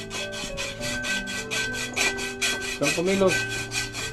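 A hand saw cuts with steady, rhythmic back-and-forth strokes close by, each stroke a rasping burst, while a person speaks briefly partway through.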